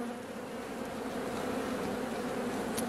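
Honey bees swarm and buzz around an open hive frame of young comb holding nectar, a steady, dense drone close by with no voices.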